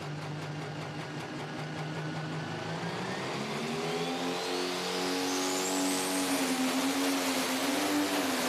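A pulling tractor at the National Tractor Pulling Championships in Bowling Green revs loudly. The engine pitch climbs steadily in one long, sustained roar that builds in intensity, with no voices.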